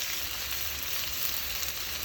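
Chicken fries lightly golden in a pan with a steady, dense sizzle that carries through without a break, close and even.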